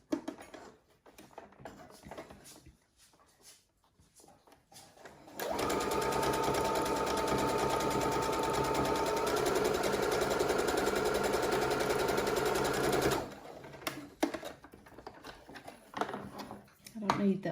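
A sewing machine stitches a fabric face mask in one continuous run of about eight seconds, a loud, rapid mechanical chatter. Handling noises and speech come before and after.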